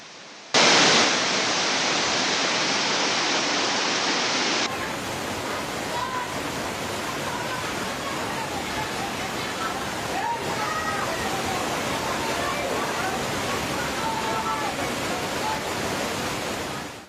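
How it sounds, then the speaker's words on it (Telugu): Heavy rain pours down in a steady, dense, loud hiss that holds without a break throughout, with faint voices mixed in underneath. "పలు జిల్లాల్లోనూ వర్షాలు జోరుగా కురుస్తున్నాయి"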